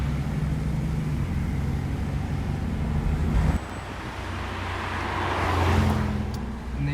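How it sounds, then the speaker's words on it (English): Ferrari F8 Spider passing on a road amid traffic, a steady engine rumble that dips, then swells as the car drives by nearby. "Very nice F8 Spider by the looks of it."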